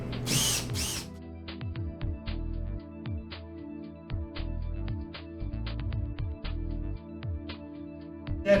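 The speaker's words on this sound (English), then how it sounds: "Then let the screw pull the baluster into the retainer." A power drill drives a screw through a retainer into a PVC rail baluster, with short repeated bursts of whirring and ratcheting clicks in a stop-start rhythm, close and fairly quiet.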